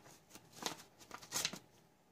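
A mail package is sliced open by hand, with quiet close-up rustling and a few brief scraping cuts through cardboard and tape.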